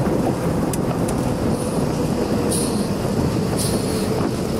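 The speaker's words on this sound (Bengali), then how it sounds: "এই যে একটা ট্রেনের বগি ঘুরিয়ে যাচ্ছে কমলাপুরে" A train wagon rolls past toward Kamalapur, a loud continuous rumble close by, with a couple of brief wheel squeals near the end and no talk.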